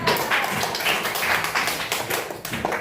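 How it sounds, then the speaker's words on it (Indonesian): A classroom group applauds for a student named Wildan during a school lesson, dense steady clapping filling the whole moment at close range with no talk over it. "Tepuk tangan untuk Wildan."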